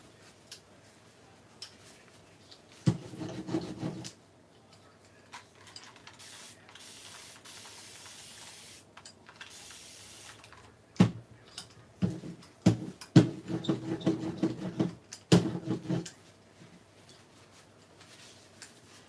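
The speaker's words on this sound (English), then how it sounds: "Just cleaning off the brayer if you're wondering what the noise is." Soft hissing and rolling scrapes come in a few bursts with pauses between, fairly close and quiet, like a roller being worked back and forth.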